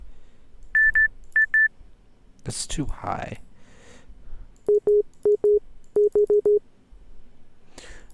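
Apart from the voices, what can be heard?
synthesizer beeps sounding like Morse code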